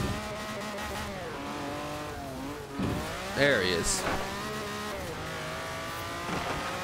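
Race cars accelerating in Forza Horizon 4, engines revving with rising and falling pitch and occasional tire squeal, steady and close, with someone talking over them.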